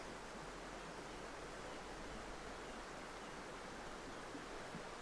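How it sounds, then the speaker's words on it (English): A river flows steadily in an outdoor setting, a continuous broadband rush of moving water that stays even and fairly faint throughout with no voices. "You can hear the river in this video"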